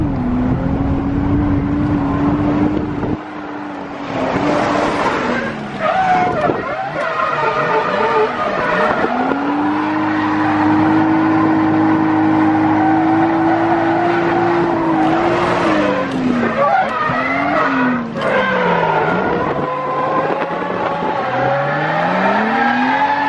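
A car driven hard around Ebisu North Course at a drift event, with a loud, continuous engine revving and shifting pitch, plus tire squeal through slides, close and sustained.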